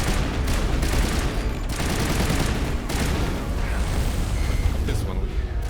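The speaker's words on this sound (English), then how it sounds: "they're starting to shoot the Geth dropship" Turret gunfire and explosions aimed at a Geth dropship in the Mass Effect video game, a dense, loud barrage of booms and rapid shots lasting throughout, with faint bursts of talk mixed in.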